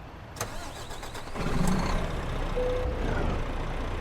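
A Volvo truck engine in Euro Truck Simulator 2 cranks and catches, settling into a low rumbling idle, moderately close with faint background noise.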